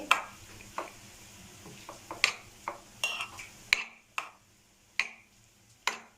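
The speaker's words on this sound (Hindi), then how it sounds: "अच्छे से मिक्स करेंगे इसे और फिलिंग तैयार कर लेंगे" Spoon scraping and tapping against a bowl while mixing a chicken and cheese filling for bread rolls, a series of sharp irregular clicks and scrapes close up with no talk.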